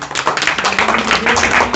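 Loud, dense clapping from a small family group cheering for mummy and papa, steady rapid claps filling the moment with no talk.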